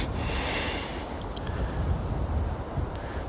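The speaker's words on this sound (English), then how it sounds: "Ooh, it's really windy." Wind gusting outdoors during a hike, a broad rushing roar buffeting the microphone, loud and continuous with no talk.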